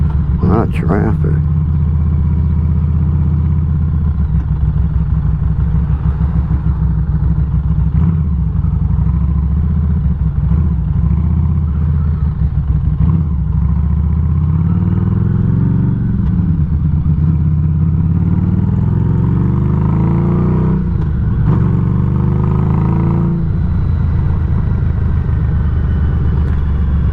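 Traffic rumble heard while riding a Harley motorcycle to work, with the engine's low drone constant throughout and passing vehicles swelling and fading.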